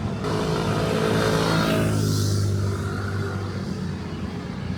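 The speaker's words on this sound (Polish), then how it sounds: "Tylko jakieś pojedyncze skutery, czasem jakieś auta się pojawiają." Light early-morning street traffic in Jakarta: a single vehicle engine rumbles steadily and swells as it passes close by, then fades, with no talking.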